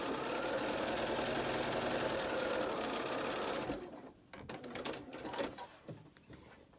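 A sewing machine stitches the outer fabric of a fitted face mask with a pocket, running loud and steady for several seconds, then stopping and giving way to scattered handling clicks and rustles.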